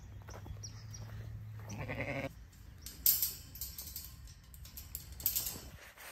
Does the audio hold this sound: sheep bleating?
yes